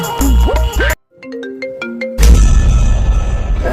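A phone ringtone from an outgoing call plays a short run of clear melodic beeps, cut in between loud bursts of noise before and after.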